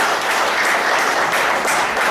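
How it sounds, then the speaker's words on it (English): A room of event attendees bursts into a full round of applause, dense sustained clapping filling the space steadily without a break. "Give yourselves a round of applause."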